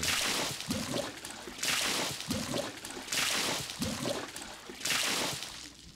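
Water flowing to fill a spike-filled pool in the video game 7 Days to Die pulses in four repeating rushing surges, each a loud splashing gush followed by a brief lull, with no talk.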